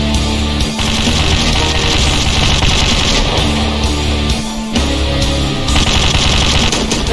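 Automatic gunfire from the video game Slendytubbies III rattles in loud, sustained bursts with brief pauses between them, and no voices.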